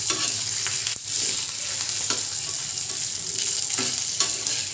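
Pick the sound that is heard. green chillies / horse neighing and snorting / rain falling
green chillies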